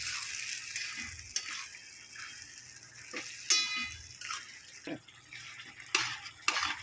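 Tomato mustard pickle blended with spice powder is stirred and mixed, a close scraping and squelching with intermittent spoon and utensil clinks against the container.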